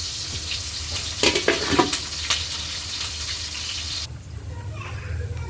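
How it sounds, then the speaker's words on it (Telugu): Chopped onions and green chillies sizzle loudly in hot oil in a home kitchen as the base for mutton biryani. Scraping stirs break through the hiss. The sizzle eases after a few seconds, and a voice talks over the cooking. "ఉల్లిపాయలు పచ్చిమిరపకాయలు ఫ్రై చేస్తున్నా"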